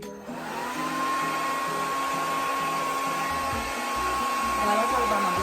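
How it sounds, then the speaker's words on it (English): A Fahrenheit blow dryer runs continuously while drying and smoothing a wig closure, a loud steady whoosh with a high whine that holds constant throughout. "Gonna blow dry her a little bit."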